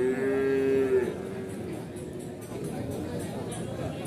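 Feeder cattle at the Wage cattle market in Pati, one loud low moo up close at the start, then a steady murmur of crowd chatter and market bustle continuing underneath.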